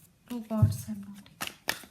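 Tarot cards shuffled in the hands for a reading, a short riffle of papery flutters and slaps, close up, with a voice talking over part of it.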